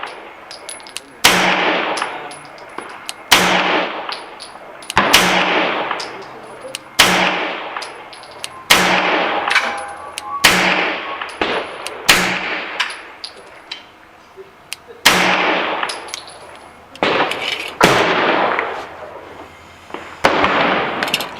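A 1911 pistol fires shot after shot at the range, about a dozen loud sharp cracks spaced irregularly a second or two apart, each trailing off in a brief echo.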